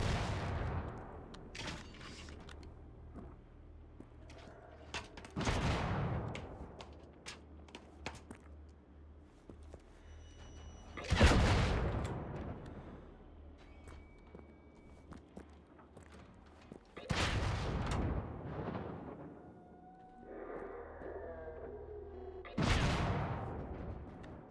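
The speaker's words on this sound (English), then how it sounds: "Trying to destroy the walls as usual." Gunfire in Generation Zero, shots aimed at walls: sharp loud blasts at irregular intervals, several seconds apart, each ringing out in a quiet setting with faint footsteps in between.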